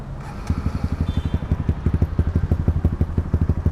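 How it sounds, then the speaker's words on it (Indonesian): A Kawasaki KLX supermoto engine revs through a loud aftermarket RP1 exhaust, popping in a fast, uneven burble that stays close and steady for several seconds. "Keren sih suara knalpot RP1 nih"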